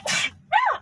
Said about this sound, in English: In fact, I'm going to sneeze.